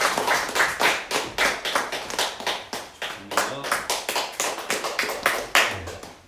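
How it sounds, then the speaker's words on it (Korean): Congregation at a Sunday morning church service applauding a Bible-reading award, a loud close crowd of clapping hands with uneven overlapping claps, surging and easing in waves without a break. "짧게 읽었으니까 크게 박수해 주세요"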